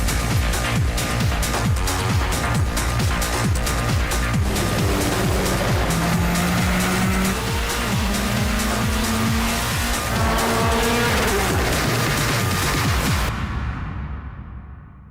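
Race cars in a PS3 driving simulator game drone and rev loudly throughout, with engine pitches climbing through repeated gear shifts and overlapping cars, before cutting off at the end.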